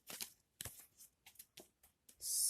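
Playing cards being shuffled at close range, a series of quick riffling bursts with short pauses between them, ending in a louder, sustained riffle and bridge.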